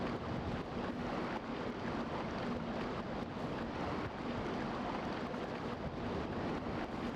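Rushing water in the video game Demon's Souls: a steady, dense roar like surf or a torrent, constant and enveloping with no breaks and no talk.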